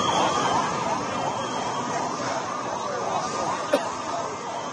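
Ambulance sirens wail continuously at the scene of an Air India plane crash near a hostel in Ahmedabad, a steady, loud rising-and-falling tone filling the whole stretch with a brief sharp click near the end.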